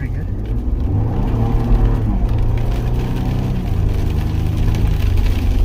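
A Ford Bronco accelerates on an icy road in an ice storm, its engine note rising in steady harmonic bands over a constant close road rumble.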